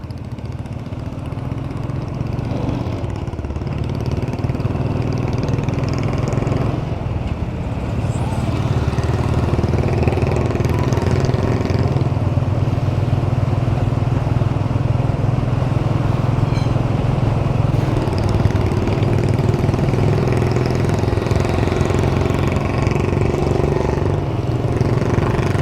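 A Royal Enfield Bullet 350 motorcycle fitted with a loud aftermarket silencer thumps steadily and close up on a road in Punjab, its low engine drone running continuously.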